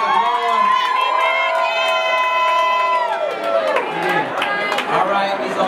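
A crowd cheers and whoops for a woman's 30th birthday, loud, overlapping high shouts and cheers filling the space for several seconds with a lively, sustained roar.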